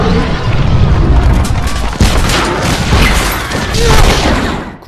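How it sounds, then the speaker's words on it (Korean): A palace explodes in a Mission Impossible film, a loud, dense roar of blasts, crackling debris and rumbling booms that swells and stays loud for several seconds. "궁전은 폭발해버리죠"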